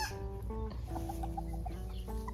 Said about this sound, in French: c'est le coq Sabelpout qui vient de chanter là